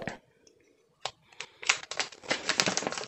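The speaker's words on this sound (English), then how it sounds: "Let's peel off the plastic." Protective plastic film peeled off a new Oppo Reno 6 phone, a few soft ticks and then a run of close crinkling, crackling rustles growing denser toward the end.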